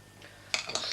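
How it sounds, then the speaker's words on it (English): A spoon stirs lemon juice into a fish cake mixture in a bowl, giving two or three quick, close metallic clinks and scrapes against the bowl after a quiet moment. "Stir it round."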